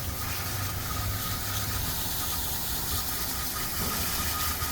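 Water spraying to rinse iron-removing wheel cleaner (IronX) off a car wheel, a steady continuous hiss with a low rumble underneath, close and unbroken with no talking.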